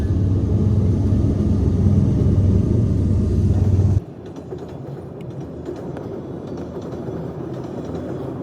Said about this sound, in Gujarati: જો આ કેનેડામાં ટ્રેન આવી છે, આપણે ફાટકે ઊભી રાખી છે.